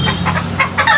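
A backyard chicken clucks close by in a few quick, throaty bursts with no talk over it.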